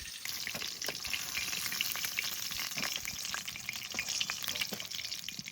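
Pieces of a large hilsa fish frying in plenty of hot oil, a dense, steady crackle and spatter with scattered sharp pops, close by and uninterrupted by talk.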